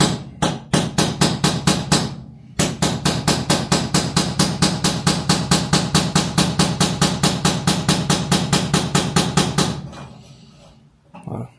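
Rapid, evenly spaced metallic hammer taps strike a nut at an angle on a BMW M3 E36, loud and close, running in a long steady series with a short pause after about two seconds.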